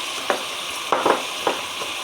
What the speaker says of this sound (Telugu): ఈ క్లీన్ చేసి పెట్టుకున్న చేపలని దీంట్లో వేసుకోవాలి.